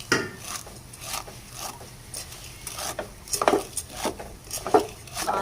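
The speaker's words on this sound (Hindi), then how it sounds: "तो घी हमारा गर्म हो चुका है, तो अब हम इसमें सेवइयों का पैकेट डाल देंगे। इसे हल्का सा रोस्ट करेंगे।" Vermicelli roasting in hot ghee in a pan, stirred with a utensil: irregular scraping and light clinking strokes of moderate loudness, close by, with no talk.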